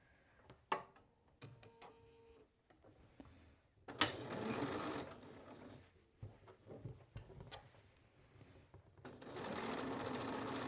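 A sewing machine stitches a dress strap and lining in bursts, with short pauses between runs and a few light clicks and handling sounds at the start.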